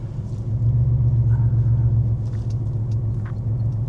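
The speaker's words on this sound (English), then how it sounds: "hooning around in a Porsche 964" A Porsche 964 with 376,000 miles, driven on a narrow road, gives a loud, steady low engine rumble from inside the cabin with slight swells and no talk.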